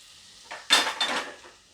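Flattened rice (poha) tipped into a pan of softened onions with the gas switched off, giving a short dry rattling pour and scrape against the metal pan, fairly close and moderately loud.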